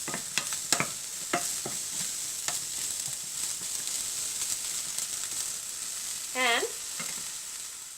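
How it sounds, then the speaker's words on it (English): Broccoli frying in a pan with salt sprinkled on gives a steady close sizzle, interrupted by scraping stirs and a few clacks of a utensil; a brief voice is heard near the end. "Stir them well."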